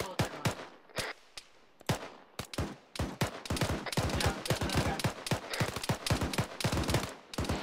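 Rapid bursts of video-game gunfire with tracer rounds during a military-sim team match, sharp repeated shots in irregular clusters that grow denser and more continuous toward the end, loud and close.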